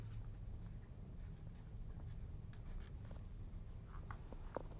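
Marker or pen scratching across a board at an art-supply event, steady strokes with a few sharper squeaks near the end, over a constant room hum.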